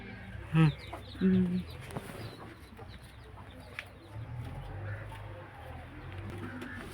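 A country hen (native free-range chicken) clucks a few times in short bursts near the start, then quieter farmyard ambience with faint chirps continues.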